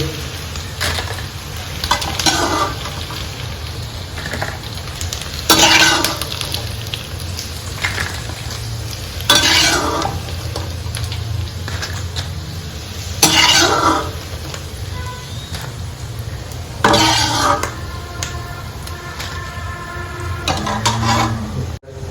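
Food dry-roasting in a pan on a gas stove in a home kitchen, with a spatula scraping and stirring in repeated strokes every few seconds over a continuous close sizzle.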